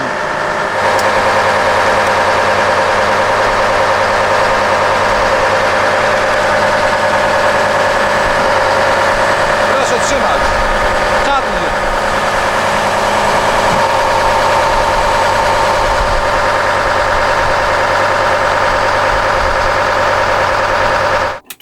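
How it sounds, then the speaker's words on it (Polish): A 1000-horsepower V10 quad-turbo diesel in an ÖAF 20320 6x6 truck runs steadily to drive its hydraulic winch, a loud, continuous close engine drone with a constant hum that holds for the full length. "Wciągarka jest hydrauliczna, czyli wciągamy sprzęgło, elektrozawór i załączyła się wciągarka."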